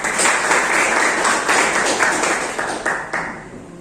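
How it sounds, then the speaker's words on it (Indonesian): A classroom of students applauds, dense clapping that starts strong and gradually thins and fades toward the end, with a few louder individual claps standing out. "Oke, tepuk tangan buat kita semua"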